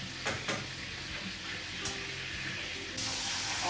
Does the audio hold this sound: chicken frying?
yes